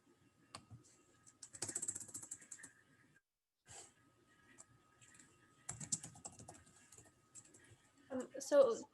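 Typing on a computer keyboard during a hands-on TensorFlow workshop, bursts of close, quiet key clicks separated by pauses, with a louder flurry near the end.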